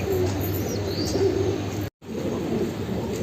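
A white pigeon coos in a low, steady, continuous murmur close by, alone with no talking and a brief cut near the end.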